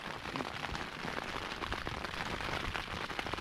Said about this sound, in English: it's been raining for the last hour. Pitter patter.